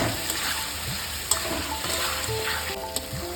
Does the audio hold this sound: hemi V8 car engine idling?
no